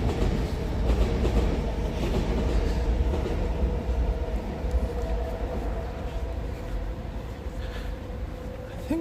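Train arriving at Musashi-Shinjo station in Kawasaki, heard from on board: a steady rumbling roar with rattling and clickety-clack, easing slightly as it slows, ending with a faint squeal.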